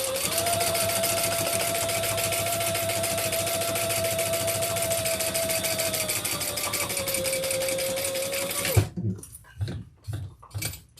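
A sewing machine top-stitches a leather wristlet bag in a steady, fast continuous run for about nine seconds, then stops, leaving a few short bumps and handling noises.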